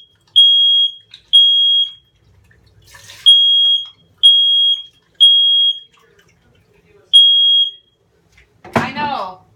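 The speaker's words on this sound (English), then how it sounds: "That was the alarm that went off that you heard." A kitchen smoke alarm goes off after the oven is turned on, sounding six loud, piercing electronic beeps in an uneven rhythm with quiet gaps between, followed by a short burst of speech at the end.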